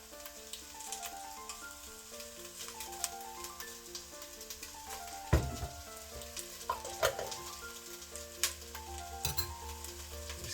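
Garlic sizzles and crackles in a hot pan, a steady close frying hiss with occasional stirring clinks and scrapes, while tonal background music plays underneath.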